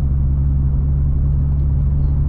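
Engine of a modified Mk2 VW GTI with a swapped 12-valve VR6, cams and short gear ratios, holding a loud, steady low rumble from inside the car with no talk.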